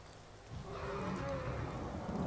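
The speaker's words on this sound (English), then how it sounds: "It's raining." Steady rain falling in the video game Skyrim, a constant broadband hiss that swells after the first half second and holds at an even level, with no talk over it.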